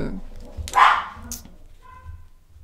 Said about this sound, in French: il y a un chien qui aboie, il y a tous les chiens qui aboient